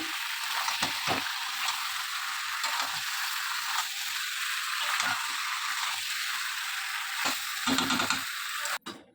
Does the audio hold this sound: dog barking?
no